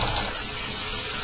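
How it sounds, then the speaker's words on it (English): Water rushing steadily down a basement water pipe from upstairs, a continuous hissing flow close by with no voices. "you tend to hear the water coming down from the upstairs"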